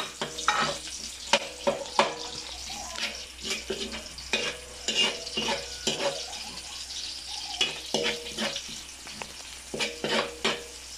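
Onions sizzle while frying in hot oil in a pan as a utensil scrapes and stirs in irregular strokes, close up and moderately loud.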